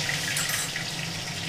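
Two dried red chilies and a bay leaf dropped into hot oil already holding panch phoron in a kadai give off a steady, even sizzle and crackle that runs through the whole short stretch with no talking.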